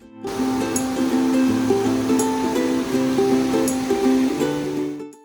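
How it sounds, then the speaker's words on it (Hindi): A river running just below a Himachal Pradesh village in Chamba, heard as a continuous loud rushing roar of flowing water with steady tonal hum over it, fading out at the end. "गांव के नीचे ही बह रही यह वो खूबसूरत नदी है जिसके फ्लो की आवाज काफी दूर से ही सुनाई देने लगी थी"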